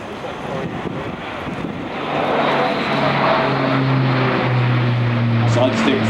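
An Airbus A400M Atlas military turboprop transport aircraft drones overhead as it flies low, its engine hum growing louder and steadier with wind noise across the microphone.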